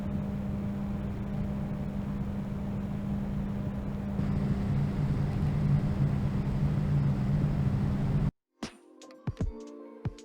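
Corsair LL120 and LL140 RGB PC fans spin at 1000 RPM, giving a steady broadband airy whoosh with a low hum that stays constant and then cuts off abruptly, followed by a few faint clicks.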